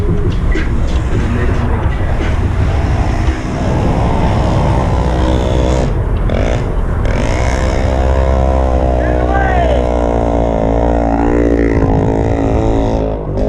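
Engine in a garage starting up and running loudly, a continuous rough roar that rises and falls in revs, with people talking and shouting over it.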